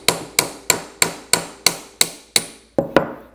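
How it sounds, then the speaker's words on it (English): A hammer strikes the mandrel of a copper tube sizing tool while fitting a copper water service line: about ten sharp, ringing blows land in a steady rhythm, close and loud, with no talking. "You can take your hammer again"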